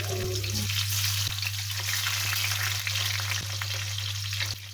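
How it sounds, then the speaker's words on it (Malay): Prawns coated in salt and turmeric fry in hot oil over fairly high heat, giving a loud, steady sizzle with occasional stirring clicks and no talking. "Masa goreng udang ni api biarlah sedikit kuat, jangan perlahan, nanti udang tu liat."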